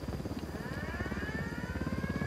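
A helicopter in the video game Ghost Recon Wildlands thrums steadily with a rhythmic low rotor chop and a rising whine, loud and continuous throughout with no talking.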